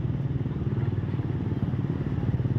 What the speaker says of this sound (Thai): เบิ้งไปพร้อมๆกัน